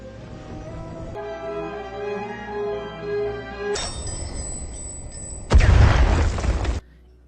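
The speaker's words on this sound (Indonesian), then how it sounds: "ibunya melakukan bom bunuh diri" A suicide bomb explosion in an Indian film, a sudden loud boom with a harsh roaring burst near the end, preceded by tonal dramatic music and a rising high whine.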